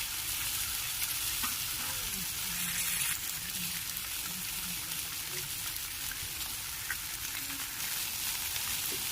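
Katla fish pieces fry lightly in a pan, giving a steady close sizzle with a few soft knocks and scrapes of a spatula beneath the hiss.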